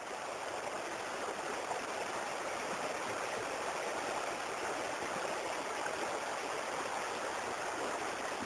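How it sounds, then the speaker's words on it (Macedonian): Steady rushing flow of the Belička river at its mouth where it joins the Treska, a dense continuous wash of water noise with no pauses, heard alone with no voices. "Се наоѓаме на устието на Беличка река, која што се влива во реката Треска."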